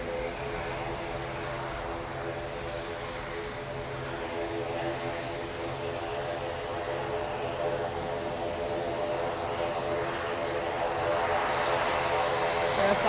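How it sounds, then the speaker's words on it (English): Propellers on a Ryanair airliner spinning up at an airport, a steady droning hum with layered tonal whine that grows gradually louder over the span, heard from a distance with some voices underneath. "Right, props coming on."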